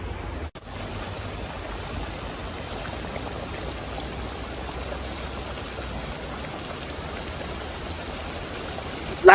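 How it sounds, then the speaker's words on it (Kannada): Water pours steadily into fish curry masala for a Malnad-style snake fish curry, a continuous close rushing splash lasting the whole stretch with no talk. "ಕೊನೆಯದಾಗಿ ನೀರು ಹಾಕೊಳ್ಳೋಣ"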